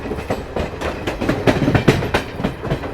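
Garib Rath Express pulling into Vadodara Junction station in Gujarat, with a loud, steady rumble of rolling rail cars and rhythmic clickety-clack of wheels over rail joints throughout, no voices.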